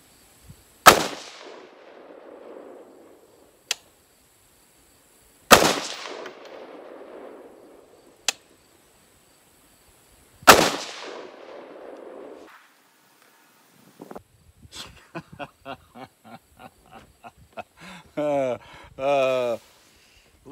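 Three loud, sharp gunshots from a rifle firing AAC ammunition with iron sights crack several seconds apart, each trailing off into a brief echo, followed by quieter clicks and rattling handling of the gun.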